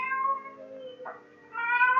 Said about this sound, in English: the silence was broken by the faint crying of a cat